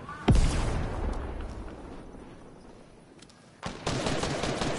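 Rapid automatic gunfire in a multiplayer video game shooter, bursts of shots opening loudly, trailing into a dense rattling wash, then a second sustained volley near the end, with no talk over it.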